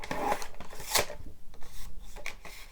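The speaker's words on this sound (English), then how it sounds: "then just flip it over and score at 2 1/2 inches" Scoring cardstock for a fancy-fold birthday card: a few close, dry scraping and rasping strokes of a scoring tool dragged along the paper, with one sharp louder pass near the middle and quieter rubbing around it.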